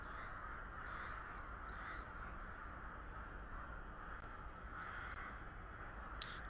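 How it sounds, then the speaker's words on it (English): Crows caw repeatedly in the distance over a steady, faint hiss of outdoor city ambience in Kyiv, the calls coming in loose groups and staying quiet throughout. "We can hear the crows in the background."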